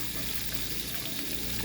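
Fish marinated with garlic, vinegar and herbs is cooked in a pan in the Philippines, a loud, close, continuous sizzle and crackle of frying with no pauses.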